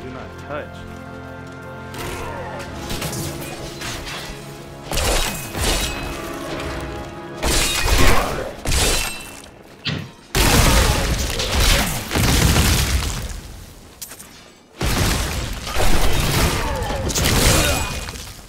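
Necromancer corpse explosions in Diablo III land as a series of heavy, crashing booms every couple of seconds over continuous game noise, with people talking throughout.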